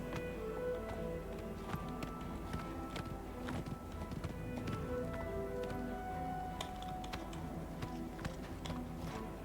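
Horse hooves clip-clopping in the video game Oblivion Remastered, a steady run of quiet hoof taps over a faint game soundscape.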